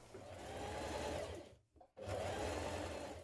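A sewing machine top stitching a hooded jacket pocket (McCall's 5252) runs steadily and close, stops briefly in the middle, then resumes at the same even whir with no talk.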